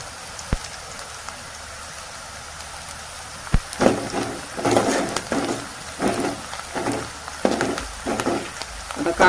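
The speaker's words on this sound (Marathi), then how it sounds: "बारीक चिरलेला कांदा, आता हे थोडं भाजून घ्यायचं" Finely chopped onion frying in oil in a kadhai with bay leaf, a quiet start giving way to bursts of crackling sizzle and stirring, close by with no speech.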